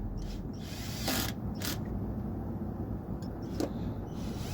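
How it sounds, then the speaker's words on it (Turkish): A torque-set tool tightening screws and bolts on an LG TV during LED bar replacement, faint mechanical ratcheting with a few short clicking bursts over low background hum. "Torkunu ayarlayıp bütün vidaları yani civataları sıkıyoruz."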